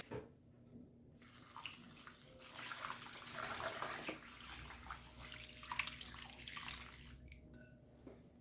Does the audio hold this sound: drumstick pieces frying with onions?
no